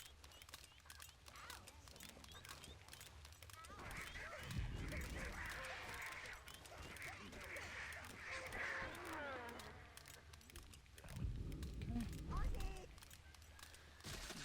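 Birds squawk and honk in the Overlord video game, harsh calls rising repeatedly over a steady game soundscape, with bursts of louder commotion and a voice talking throughout.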